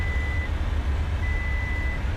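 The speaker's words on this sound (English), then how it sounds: "that beeping you're hearing, I've actually based that on the drive-in movie theatre scene." Steady warning beeps in the video game Tornado: Research and Rescue, two long tones sounding under a loud, rumbling wind-and-engine roar during a storm scene.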